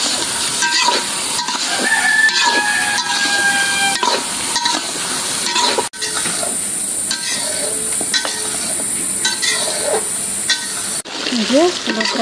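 Prawns frying in a pan for biryani, a continuous sizzle and hiss with frequent stirring scrapes and clatters running throughout, close and fairly loud.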